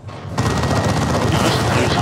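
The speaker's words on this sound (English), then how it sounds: "Cyclone missile barrage." Cyclone missile barrage in the video game Dawn of War 2, an ork base assault erupting suddenly into a dense, loud, continuous roar of rapid launches and explosions.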